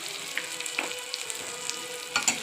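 Suhana chole masala is tipped into a hot, sizzling tempering in a pan, with a steady close frying hiss and light scattered stirring clicks.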